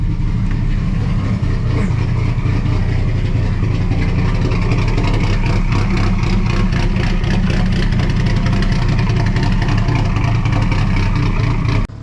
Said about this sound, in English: Got the BMW idling right now